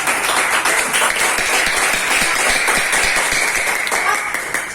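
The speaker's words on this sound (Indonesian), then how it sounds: "tepuk tangan dulu untuk kelompok" Students in a classroom clap together for a class group after a potato electricity experiment, a loud, dense, continuous burst of many hands that tapers slightly near the end.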